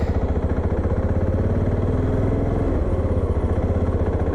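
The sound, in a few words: Voge 650 DSX motorcycle riding at night in town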